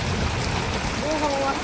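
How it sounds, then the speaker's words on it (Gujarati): Heavy rain pours down over waterlogged ground in a dense, even hiss that never lets up, with a faint voice briefly audible beneath the downpour. "વરસાદ જોવો આમ નેક્સ્ટ લેવલ પાણી ભરાઈ ગયું છે"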